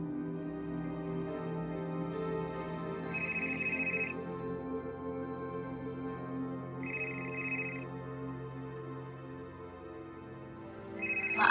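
A telephone rings in a domestic scene, with short electronic ringtone bursts repeating every few seconds over a steady background tone.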